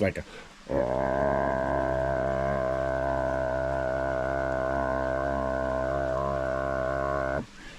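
A man imitates the mating call of a freshwater drum fish, holding one low, steady, buzzing grunt for about seven seconds. The drone is close and continuous, following a few brief spoken words.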